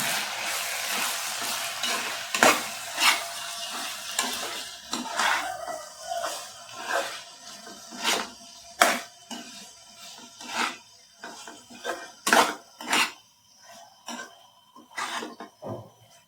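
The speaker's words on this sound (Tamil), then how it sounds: "நல்லா வதக்கிக்கோங்க, மசாலாலாம் கலந்துக்கிற மாதிரி" Mutton liver is sautéed with curry chilli powder masala in a pan, heard as repeated stirring scrapes and knocks over a light sizzle, with an occasional cough nearby.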